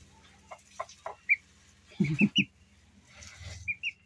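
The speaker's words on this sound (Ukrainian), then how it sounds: "Оцей з білою грудкою це петушок." Chickens and a rooster kept as new backyard poultry during an evening walk, giving a few soft clucks and then a loud burst of three close, throaty calls, with sparse high chirps and faint fowl noises around them and no talking.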